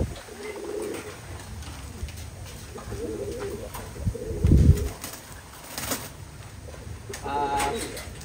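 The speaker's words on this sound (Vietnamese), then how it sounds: "thì đây là con chim bồ câu mái" Pigeons coo in low, repeated throaty bursts, with one louder close coo midway and some wing or bird movement around, while a person talks over much of it in Vietnamese, describing a female pigeon.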